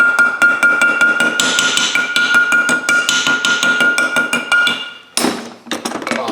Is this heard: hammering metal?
yes